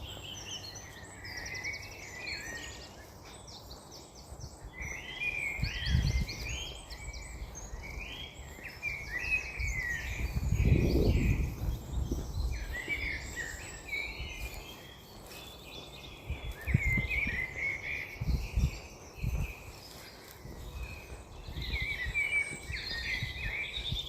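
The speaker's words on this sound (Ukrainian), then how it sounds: "Пташки співають красиво." Birds singing on a farm in Ireland, a lively mix of high chirps and trills from several birds at moderate distance, with insects and a few low thumps and rustles nearby.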